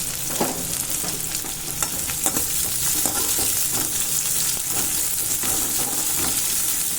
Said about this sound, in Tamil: நல்லா வதங்கணும் இந்த சின்ன வெங்காயம்.